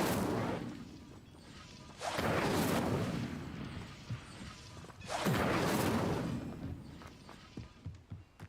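Incendio fire spell cast in a Harry Potter video game, two loud whooshing bursts a few seconds apart, each flaring and fading, followed by a few small pops.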